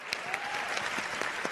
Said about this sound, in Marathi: मला असं वाटतं सगळ्यात पहिले जोरदार टाळ्या झाल्या पाहिजेत आपल्या संदीप दादासाठी आणि मनीषसाठी